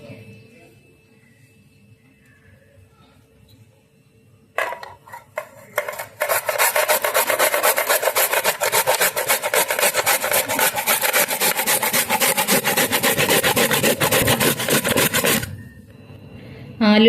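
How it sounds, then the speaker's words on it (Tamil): Cassava (tapioca) rubbed hard against a hand grater makes a loud, steady rasping that runs for about ten seconds after a few hesitant starting strokes. "இதே மாதிரி ஒரு கிரேட்டர் வச்சு சின்னதா துருவி எடுத்துக்கலாம் எல்லாமே"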